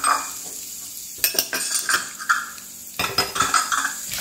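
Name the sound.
tempering cumin seeds, urad dal, chana dal, curry leaves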